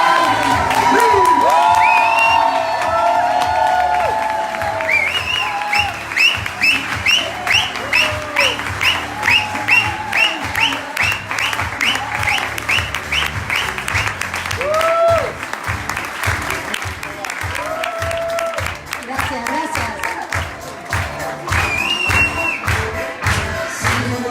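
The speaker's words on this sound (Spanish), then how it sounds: "tenemos que recibirlo no solamente con un muy fuerte aplauso" A large standing audience at a training event in Buenos Aires applauds and cheers a speaker, with loud sustained clapping, scattered whoops and shouts, and rhythmic claps emerging as the ovation continues over more than twenty seconds.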